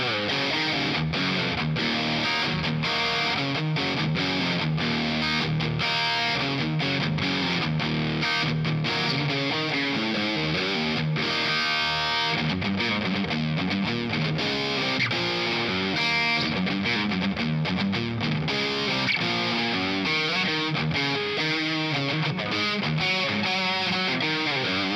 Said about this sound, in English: This is with all the distortion controls, the gain, the level,